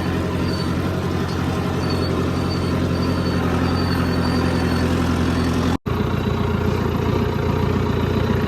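A tractor engine idles steadily and loudly at close range during wheat sowing with a super seeder, its low rumble constant throughout, with a brief dropout near the end.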